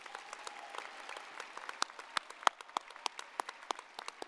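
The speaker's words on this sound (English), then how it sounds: "So we can give them all a round of applause" At a high school graduation ceremony, a sparse audience claps quietly in a large hall, with scattered individual claps growing a little sharper and more frequent over a few seconds.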